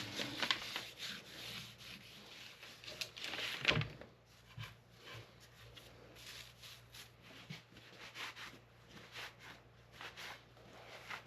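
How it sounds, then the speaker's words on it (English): Rag rubbing and wiping excess wood stain off an old rocking chair, soft repeated scrubbing strokes, close and fairly faint, louder in the first few seconds. "Now I just took a rag and wiped off the excess stain"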